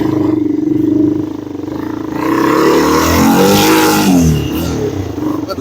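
A Yamaha 225 outboard engine with a sticking throttle revs hard, its loud droning roar rising and falling unevenly over several seconds, close to the listener.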